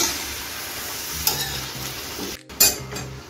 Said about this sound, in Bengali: সব কিছু ভালো করে আর 30 সেকেন্ডের মতো একটু ভেজে নিচ্ছি